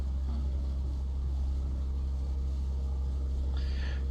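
A fishing boat engine idles at sea in the Barents Sea, a steady low drone that runs throughout, with faint background noise over it.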